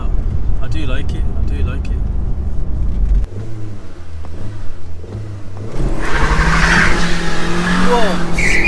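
An Audi A3 1.8T with 180,000 miles revs hard as its tires squeal and skid in a long loud burst near the end, after engine noise and road rumble, with people talking throughout.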